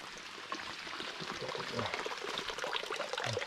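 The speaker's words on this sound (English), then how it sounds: "the water hose, and the water's coming out at a pretty good clip" Water gushes from a hose in a steady, moderately loud splashing stream, close by, with no voices.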